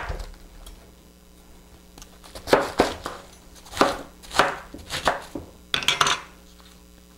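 A sharp knife chops through red or green cabbage on a board, sounding as a series of crisp, close thunks in irregular clusters, with quiet gaps between bursts.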